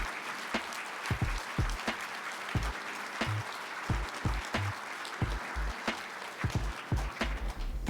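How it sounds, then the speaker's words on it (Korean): Audience applause at a Korean-American friendship year-end event, scattered individual claps from a modest crowd, distinct and uneven rather than a dense roar. "Please give them a big applause."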